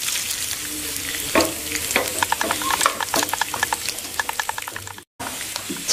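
Roasted gram and chili frying in a pan at home, a close continuous sizzle with rapid rattling clicks and spoon scrapes as the pieces are stirred, briefly cutting out near the end.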